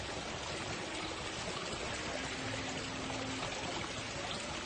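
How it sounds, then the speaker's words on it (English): Water from a backyard waterfall pours and splashes in a steady, continuous rush, close by and fairly quiet, with no voices. "I'm going to start having to turn off this waterfall behind me"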